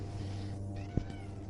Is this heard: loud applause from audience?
no